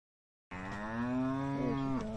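A single cow moos on a cattle farm after a brief silence: one long, loud, close call that holds steady before dropping off at the end.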